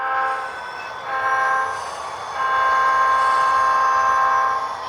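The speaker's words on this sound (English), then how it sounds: "the GWS train met the unit coal train, which you saw earlier, in Everett's Bayside yard" HO scale model freight train meeting a unit coal train in a model rail yard, with a steady rolling rumble of cars and a sustained horn-like tone swelling louder through the second half, no talk.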